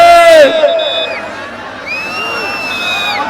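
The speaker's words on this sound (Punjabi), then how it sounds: "ਤਾੜੀਆਂ ਮਾਰ ਦਿਓ ਇੱਕ ਵਾਰੀ ਦਰਸ਼ਕ ਵੀਰੋ" Spectators at a kabaddi match between Sur Singh Wala and Dera Baba Nanak in Samalsar, Moga, roar and whoop, a loud burst of shouting up front followed by sustained crowd noise with shrill whistle-like calls.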